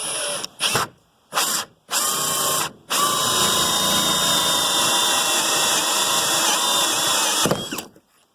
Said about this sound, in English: And then just proceed to drill it out.